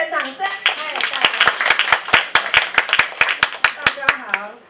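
Audience at a folk song performance clapping in an uneven, accelerating run of sharp hand claps that becomes a steady rhythmic beat, close and fairly loud, with voices talking over the start.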